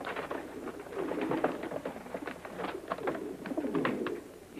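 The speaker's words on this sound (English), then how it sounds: "Yeah, and they're carrier pigeons" A whole flock of carrier pigeons coos steadily in a Western setting, dense overlapping throaty calls filling the scene fairly close by, with no talking.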